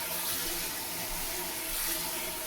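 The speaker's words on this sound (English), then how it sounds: "Fill your pot with cold water." Cold water from a kitchen tap pours steadily into a cooking pot, a continuous close hiss and splash with no pauses.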